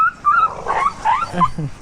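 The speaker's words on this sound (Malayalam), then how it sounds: "അയ്യോ പാവം പട്ടി, എന്ത് ചെയ്യുന്നത്?" A dog whimpers and yips up close in a short burst of high, whining cries, with a couple of low, bark-like pulses near the end.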